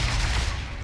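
Gunfire in Warhammer 40k: Deathwatch erupts as one loud, dense burst of booming shots lasting under a second.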